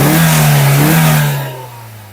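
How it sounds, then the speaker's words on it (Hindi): A 2025 Maruti Suzuki Brezza petrol engine with smart hybrid system revs up close, a loud steady mid-pitched drone rising slightly before the revs drop away and the sound fades to a quiet idle. "तो कुछ ऐसा साउंड करता है इसका इंजन"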